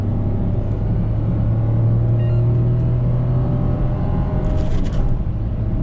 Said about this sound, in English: So first gear, let's rev it.